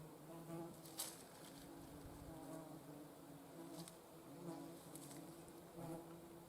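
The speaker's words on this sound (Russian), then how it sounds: "Слышите, наверное, как овод шумит." Gadflies buzz in a forest, a faint, steady drone with several louder passes as insects fly close by, and a few soft background sounds with no speech over them.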